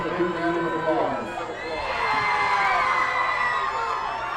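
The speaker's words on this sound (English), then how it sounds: "Let's give them a big round of applause." Crowd cheering and whooping at a school event, loud and continuous with children's shouts mixed in and voices carrying over the noise throughout.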